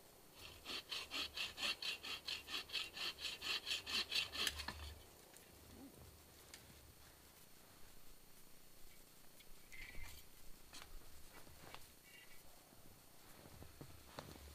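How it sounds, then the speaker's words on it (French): A hand saw cuts a wooden pole in rapid, rhythmic back-and-forth strokes for several seconds, close and fairly loud, followed by quieter handling noises and scattered clicks. "On sort la scie et on mesure."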